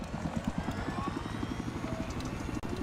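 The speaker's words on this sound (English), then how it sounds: "waiting for the helicopter propeller to spin all the way up." Scout helicopter rotor spinning up in Battlefield 4, a steady rhythmic low thumping chop with engine whine, continuous and fairly close, no talk.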